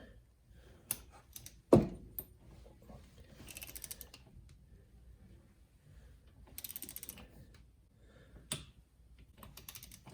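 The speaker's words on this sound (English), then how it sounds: "we got a torque wrench. It is set to 10 pounds" A torque wrench set to 10 pounds clicks and ratchets while tightening a spark plug on a 2008 Polaris Hawkeye/Sportsman 300 ATV, with a sharp loud click near the start and scattered lighter ratcheting bursts after.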